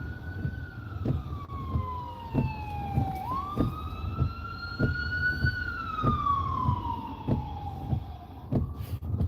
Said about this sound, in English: Where is the ambulance at? I hear it.